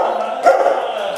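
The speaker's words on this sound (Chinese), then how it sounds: "找到有人的桶子， Roger 就会汪汪汪的叫" A search and rescue dog barks during a rescue demonstration at a resort where children and parents hide in orange barrels. The barks are loud and close, with one sharp bark standing out over a sustained whine-like tone.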